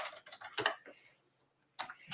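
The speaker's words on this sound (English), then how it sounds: "let's try typing it as a comment" Keys on a computer keyboard tapped in a quick burst of clicks, then a pause, then more typing, fairly quiet and close.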